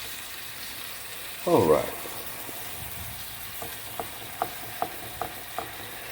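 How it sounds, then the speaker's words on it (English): Shrimp searing in a hot pan, cooked alongside steak: a loud sizzling burst as they land or turn, then a quieter fry with a row of light, regular utensil ticks, and a brief spoken word. "Get you a good sear on the shrimp."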